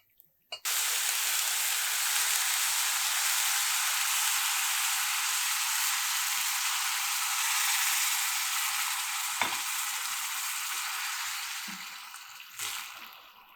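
A dessert mixture of sugar and boiling water bubbles and hisses steadily in a pot while being stirred occasionally, a loud continuous sizzle with a brief knock near the end as it tapers off.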